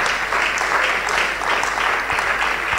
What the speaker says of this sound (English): With a round of applause, help me welcome PSCA Mavis Kwenu.